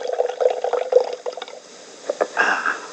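A drink pours into a glass in an old radio comedy setting, giving a short run of liquid gurgles and splashes, near and moderately loud, with a brief fuller burst of pouring toward the end and no talk over it.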